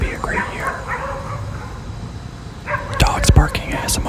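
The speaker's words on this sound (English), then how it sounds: "Dogs barking ASMR" Dogs bark in a short burst near the end, several sharp yips after quiet background murmuring, fairly close and loud against a steady room hum.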